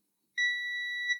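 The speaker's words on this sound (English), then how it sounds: "So let's put that on continuity. And it should beep." A single steady electronic beep from an old multimeter's continuity test on a dead short, clear and high-pitched, lasting just under a second after a moment of silence.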